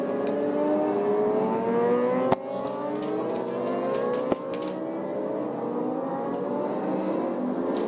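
600cc superstock motorcycles on the warm-up lap of a European Superstock Championship race at Silverstone. Several engine whines climb and overlap steadily at a moderate distance, broken by two sharp clicks.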